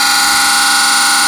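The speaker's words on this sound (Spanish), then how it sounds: "le coloqué dentro un circuito electrónico de una pistola galáctica. Esta es la pistola galáctica, suena así." Electronic sound circuit from a toy ray gun fitted inside a soda-can instrument, giving a loud, steady harsh buzzing tone with a dense wash of high pitched noise, held alone for about a second.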